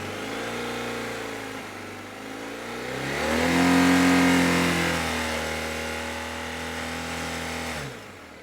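A motorcycle engine held by a bolt-on cruise control runs at a steady hum, then climbs to a strained, sustained high rev of about 5,000 RPM before dropping back to an even drone, loud and close.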